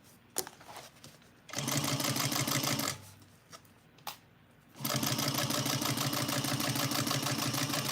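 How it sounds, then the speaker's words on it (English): Sewing machine stitching a box bag with a 3/8 inch seam allowance, running in two loud steady bursts separated by quiet pauses with small handling clicks. "here I'm sewing 3/8 of an inch on."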